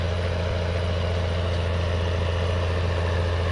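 A tractor engine idles steadily in the Farm Sim video game, a constant low diesel drone with a heavy rumble that holds at a fixed pitch throughout, close and alone with no voices.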